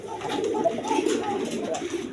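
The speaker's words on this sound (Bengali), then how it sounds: "একদম বিগ সাইজের কবুতর" Big chocolate-coloured Rajgolla pigeons at a farm coo in a steady, low burbling murmur, close and moderately loud with no talk over it.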